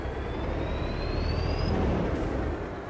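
In Farming Simulator 22, loud, steady rumbling engine drone of a large truck idling nearby, with a faint rising whine above it.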